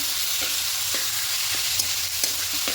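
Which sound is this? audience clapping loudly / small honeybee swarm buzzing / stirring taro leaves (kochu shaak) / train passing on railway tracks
stirring taro leaves (kochu shaak)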